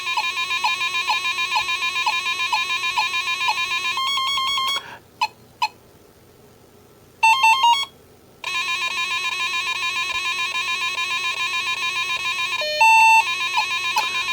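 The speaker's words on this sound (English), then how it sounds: "Just like in the arcade, you hear that nice little intro tune." A Ms. Pac-Man tabletop arcade machine plays a bright, repetitive electronic jingle with pulsing beeps, briefly broken by short gaps and chirpy bursts before the steady tune resumes, with no talking.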